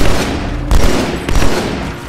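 Loud, dense gunfire in the shooter game Halo 2, a continuous rattle of shots with a couple of heavier hits, no talking over it.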